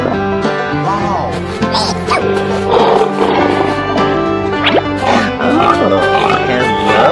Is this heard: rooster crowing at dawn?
no